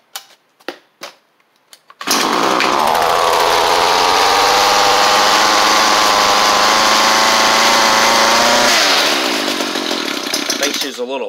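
A Ryobi two-stroke weedeater engine fitted with a new carburetor fires on the first pull: a few brief knocks, then a loud, steady buzzing run that eases slightly near the end.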